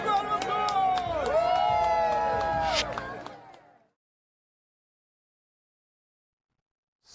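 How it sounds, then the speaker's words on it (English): A crowd at a Christmas countdown event by Leyton Orient cheering and clapping, loud overlapping shouts, whoops and applause that fade out into silence after a few seconds. "Big round of applause!"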